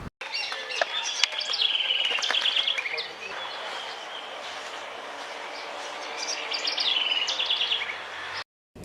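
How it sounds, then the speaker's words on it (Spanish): A small bird sings bright, rapid trills in two bursts, close and clear, with faint rumbling in the background. "Posee un precioso trino y al realizarlo mueve sus alas."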